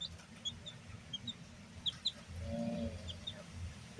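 Hybrid chicks, a cross of black Mongo and white Leghorn chickens, hatched in a homemade egg incubator, give faint scattered high cheeps over a low steady hum.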